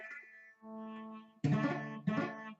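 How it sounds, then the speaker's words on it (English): Guitar barre chord played a few times, sounding muddy and buzzy with poorly fretted strings, quiet and close. "sometimes you won't grab the bar chord right and you'll sound like this"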